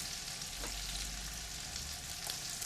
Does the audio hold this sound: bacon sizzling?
yes